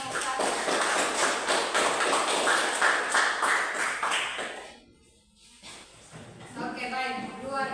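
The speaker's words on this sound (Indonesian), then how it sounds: "mari kita tepuk tangan untuk kelompok 1" An audience in a classroom-style discussion session claps for the first group, a few seconds of rhythmic hand clapping that fades into a brief pause, followed by voices talking.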